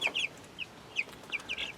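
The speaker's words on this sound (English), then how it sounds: "Speaking of little baby chickens" Young chickens in a backyard chicken house let out a quick series of high, thin chirps and soft clucks, faint against a quiet hiss.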